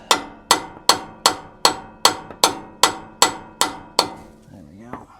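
A hammer taps a ball joint into the steering knuckle of a Subaru Sambar with ten evenly spaced, sharp metallic blows, loud and close, followed by a brief faint scrape.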